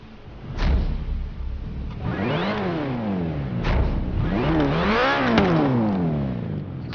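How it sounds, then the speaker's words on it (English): A rally car engine revs hard repeatedly in Forza Horizon 3, rising and falling, with sharp crackling backfire pops and a turbo whistle between revs. "Damn, so much backfire, and you can hear the turbo"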